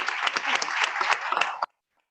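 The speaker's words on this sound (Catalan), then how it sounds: "també les podem aplaudir" Audience applause at an academic year opening ceremony, a dense burst of many hands clapping for under two seconds, then cutting off abruptly to silence.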